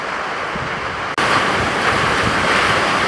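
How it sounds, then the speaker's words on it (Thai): Strong storm wind in Laos roars steadily into the microphone in a dense, continuous rush, briefly cutting out before surging back even louder. "มาเลยแม่ลมมาแล้ว"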